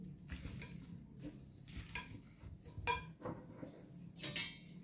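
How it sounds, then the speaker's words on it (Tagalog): Corn bihun noodle salad with shrimp is being mixed by hand in a bowl, giving soft, irregular stirring scrapes and occasional light clinks of a utensil, fairly quiet and close. "Mix properly first before adding the juice or the sauce."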